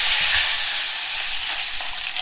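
Meat fries in a hot pan while being stirred constantly, a loud, dense, unbroken sizzle close by with faint scraping underneath and no talking.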